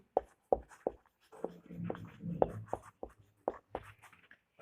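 A pen scratches out a physics solution in short strokes and taps, close and fairly clear, with brief pauses between marks and no voices.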